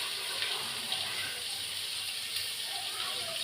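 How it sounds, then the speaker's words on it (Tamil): Water poured steadily into a pot of old cooked rice, a continuous splashing trickle with a bright hissing wash, close by and unbroken for a few seconds. "இதில் கொஞ்சம் பழைய தண்ணியை ஊற்றிவிடலாம்."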